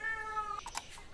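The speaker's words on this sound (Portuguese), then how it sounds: "tem um gato miando aqui" A cat meows twice at a ranch, a short rising-and-falling cry followed by a quicker second call, fairly close but soft, with no talking over it.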